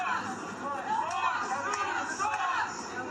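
A loud, boisterous crowd at an election protest, many voices merging into a dense, continuous roar that swells and dips slightly without pause.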